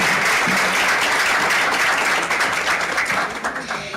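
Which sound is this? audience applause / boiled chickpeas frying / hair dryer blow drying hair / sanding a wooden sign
audience applause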